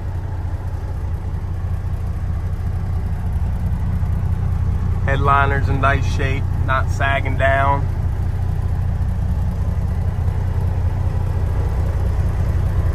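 A 1990 Kenworth cabover truck engine idles with a steady low rumble, close and continuous, while someone briefly talks over it.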